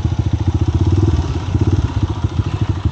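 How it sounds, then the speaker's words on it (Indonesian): Motorcycle engine running close by on a winding village road, a steady pulsing mid-range putter with rhythmic thumps and clatter throughout, loud and without talk. "Motor tiasa ngalangkung teh ayeuna"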